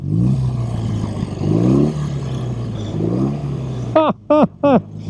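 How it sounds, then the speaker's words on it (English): Boxer twin of a 1971 BMW R75/5 motorcycle idling with a lumpy rumble, rising in several throttle blips, then three short sharp revs near the end, close and loud with no talk. "I'm going to give it a rev and it's going to torque itself"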